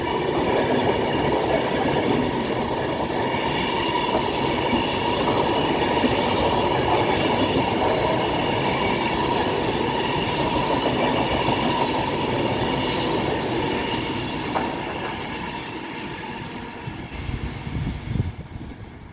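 Class 390 Pendolino unit 390118 rolls past at Rugby on the West Coast Main Line, a steady loud rumble of wheels over the points with clattering joints and a faint squeal, ending with a sharper clunk as it clears.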